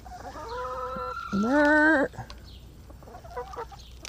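Backyard chickens on an urban farm clucking and calling while eating greens, with drawn-out squawks and a loud harmonic cry in the middle, followed by softer clucks nearby.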